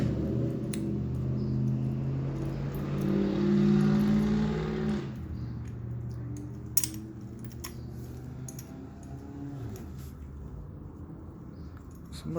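A motorcycle passes outside, its engine swelling to a loud hum and then fading away over several seconds, heard from indoors beneath faint clicks and handling noises.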